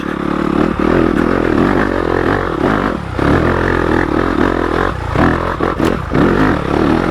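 A completely stock Yamaha YZ250FX dirt bike engine pulls in second gear up a steep trail, a loud, continuous roar that dips and surges with the throttle, with scrapes and clatter from the terrain.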